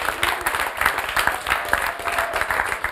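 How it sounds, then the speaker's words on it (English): An audience applauds panelists at the close of a talk show: a steady wash of many hands clapping at moderate volume, continuous for the whole stretch with no talking over it. "So please, let's give them a hearty clap."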